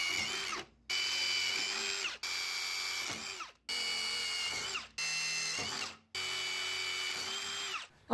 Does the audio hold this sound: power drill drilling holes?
yes